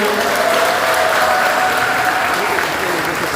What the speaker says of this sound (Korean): 힘내시라고 박수 한번 쳐주십시오